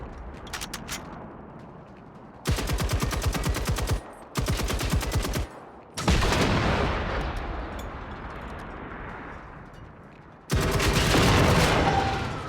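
Armor-piercing rounds fired in the open-world shooter game Generation Zero, loud sustained bursts of automatic gunfire separated by short gaps, followed by a long rolling echo and another heavy burst.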